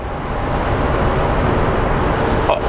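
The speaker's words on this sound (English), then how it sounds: "So here comes the 767 we watched land." Boeing 767 taxiing at Phoenix Sky Harbor airport, a steady jet-engine rumble and hiss at moderate distance, with a brief higher whine near the end.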